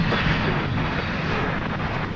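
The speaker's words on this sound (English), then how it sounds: "Got a 767 coming in. And it's a FedEx." A FedEx Boeing 767 arriving at Dallas Fort Worth at night, a loud, dense engine roar close by, unbroken throughout.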